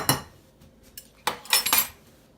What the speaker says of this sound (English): we're gonna just blend those together With the knife.